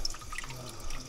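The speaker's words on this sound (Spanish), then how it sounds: "Agua sagrada." Sacred water drips at a Taoist temple on Mount Wudang in China, a few small, close drops falling in quick succession over a steady low background hum.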